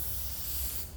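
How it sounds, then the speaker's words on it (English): Steady aerosol spray hissing close up onto a part of a 1967 Alfa Romeo 1600 engine head, a continuous bright hiss with no talk. "You don't have to spray the entire surface"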